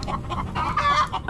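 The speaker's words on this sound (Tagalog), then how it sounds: "Background music ng mga manok." Chickens clucking in the background, a cluster of close, loud hen clucks and squawks repeating in quick bursts, with no talking.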